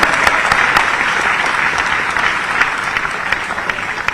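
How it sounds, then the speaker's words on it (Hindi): Loud, sustained applause from a large audience at a sports awards ceremony in Bhopal, dense clapping filling the whole stretch without pause. "उनका भी तालियां बजा के स्वागत कीजिए।"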